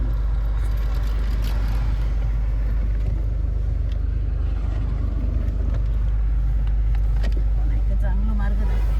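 A car passes along a road near Palnekond Dam in Sawantwadi, a steady, close, low engine and tyre rumble that fills the whole stretch, with faint voices underneath.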